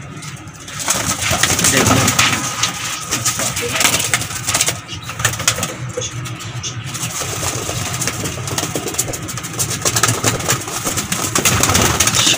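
Sialkoti red-pearl pigeons coo softly in low, throaty murmurs beneath a steady engine-like hum, with occasional rustling and a brief spoken word.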